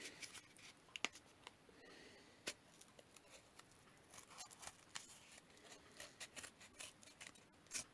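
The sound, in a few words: scissors cutting out the middle of a pom pom template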